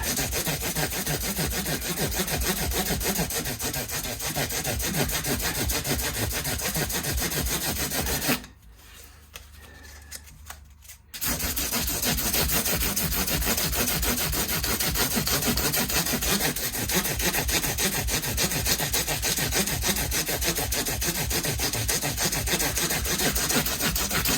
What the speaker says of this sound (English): this is making sure that all the 300 grit of the crowning file and the 400 grit, the leveling file, are all taken care of.